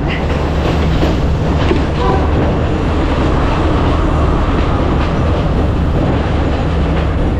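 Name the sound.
train running on rails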